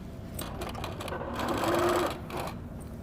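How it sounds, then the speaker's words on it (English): A sewing machine stitches binding onto a duffle bag with a close, steady mechanical whir that swells briefly in the middle before settling. No one speaks over it. "we can put it under the machine and start our sewing"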